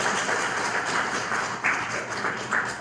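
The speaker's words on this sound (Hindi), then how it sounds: "इनके लिए भाई डबल ताली बजाओ आप" A seminar audience in Lucknow claps together, a steady patter of many hands that rises in a few brief swells and keeps going throughout.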